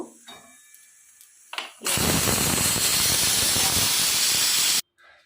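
A pressure cooker holding jackfruit and potato is opened after four whistles, and after a few small clicks a loud, steady rush of steam hisses out for about three seconds before stopping abruptly.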